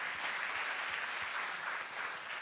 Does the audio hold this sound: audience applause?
yes